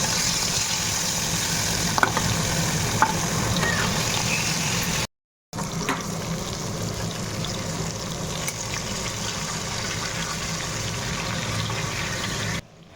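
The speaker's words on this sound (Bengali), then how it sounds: "মাছ ভাজাই থাকবে" Fish fries in hot oil in a home kitchen, giving a steady close bubbling sizzle that runs continuously apart from a brief cut partway through.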